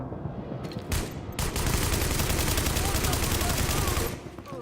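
Sustained gunfire in The Division video game, a dense, loud rapid burst of automatic shots lasting several seconds before cutting off, with a shorter shot or two just before it.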